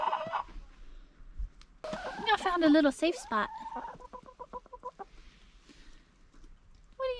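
Chickens cluck and chatter outdoors in the snow, giving a few short, bright calls and a longer run of clucks, with a person talking between and over them.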